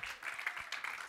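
A church congregation claps for the Lord during a Santa Cena service, a burst of fairly faint applause, scattered hand claps overlapping briefly in a reverberant room.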